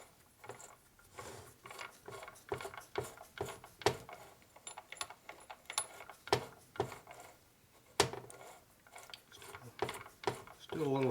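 Transmission gears from a 1942 Harley WLA are shifted and slid by hand during reassembly, giving a scattered run of quiet metallic clicks, ratcheting ticks and small clunks at an uneven pace, close up.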